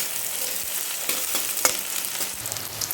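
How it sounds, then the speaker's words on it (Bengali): Chopped onions fry in oil with a steady hiss, interrupted by occasional scrapes and clicks of stirring, close by and moderately quiet, with nobody talking. "ওই তেলেই আমি সামান্য পেঁয়াজ কুচোনো অ্যাড করে দেব। পেঁয়াজগুলোকে লাল লাল করে ভেজে নেব।"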